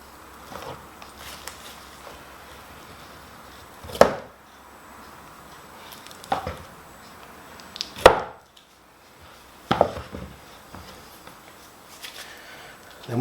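A decapping knife slices wax cappings off a honeycomb frame during a honey harvest, giving a few sharp scraping cuts at intervals over a quiet background.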